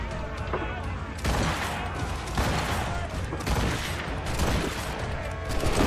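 Ship cannon fire in Assassin's Creed Rogue during a naval fight, repeated heavy booming volleys in quick succession over a rumbling battle din, with a player talking over it.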